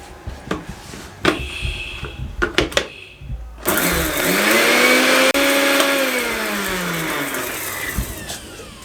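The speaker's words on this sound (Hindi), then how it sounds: "इसको भी ये ग्राइंड कर लेते हैं दोबारा से" An electric grinder runs on coarse chaat masala powder, starting after a few knocks and rattles and then holding a loud, steady motor whine that shifts slightly in pitch.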